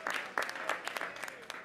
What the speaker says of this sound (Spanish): tengan un aplauso de este artista